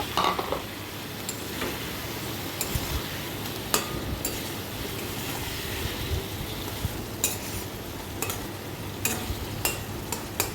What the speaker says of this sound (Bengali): এটাকে নাড়াচাড়া করে একটু কষাবো আমি